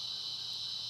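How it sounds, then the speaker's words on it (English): Cicadas drone outdoors in a steady, shrill, continuous buzz that stays constant and fairly loud throughout. "I know the cicadas are probably extremely loud in this video."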